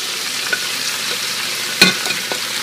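Onions, red peppers and mushrooms frying in a pan for carne guisada, a steady hissing sizzle with a few soft stirring scrapes and one sharper clack of the utensil near the end.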